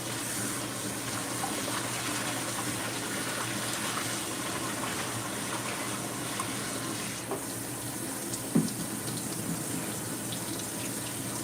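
Cut bitter melon being rinsed under a running kitchen tap, a steady, even gush of water filling and splashing in a sink, moderately close, with one brief clunk near the end and no speech.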